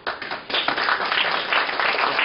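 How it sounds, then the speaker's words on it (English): An audience claps at a people's budget assembly meeting, a dense burst of applause from many hands that rises quickly and stays loud and even throughout. "I'm glad you're clapping"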